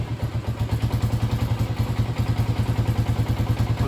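Motorstar Star X 125 motorcycle with a Jialing engine idles at low revs, a steady rapid putter of low, even engine pulses close by with a slight mechanical clatter.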